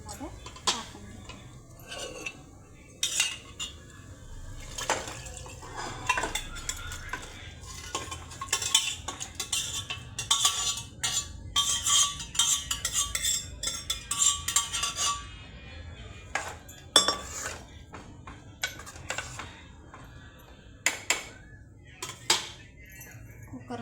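Cooked mutton is tipped into fried masala in a pan and stirred, with irregular metal spoon scrapes and clinks against the pan recurring throughout, fairly quiet and close.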